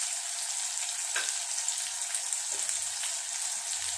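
Turkey berries (sundakkai) sautéing with salt in a pan, a steady close sizzle and crackle with a few soft stirring scrapes, continuous and fairly quiet with no talking.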